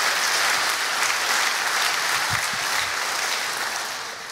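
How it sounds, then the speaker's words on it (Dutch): An audience applauds at the closing of a DrupalJam conference, a dense, steady wash of many hands clapping that fades slightly at the end. "Nog eenmaal een applaus."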